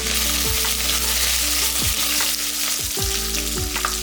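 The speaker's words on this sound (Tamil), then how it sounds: "இது நல்லா பொரிஞ்சிக்கிட்டு இருக்கட்டும்." Fennel seeds, spices, green chillies, ginger, garlic and curry leaves sizzle and crackle steadily in hot oil, a continuous close frying hiss with several sharp pops and occasional stirring sounds, no voices.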